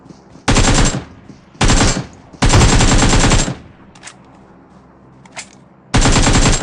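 Automatic gunfire in the BGMI mobile shooter, finishing off a downed enemy: loud, close bursts of rapid fire in three long strings, a few faint distant shots between them, then a final burst.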